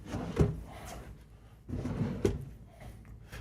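A wooden drawer in a Newmar Ventana 4369 motorhome slides open and shut twice, each pass a rumbling glide ending in a soft knock, close by with no talking.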